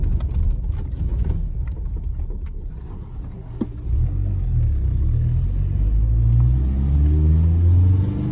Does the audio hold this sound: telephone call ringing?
no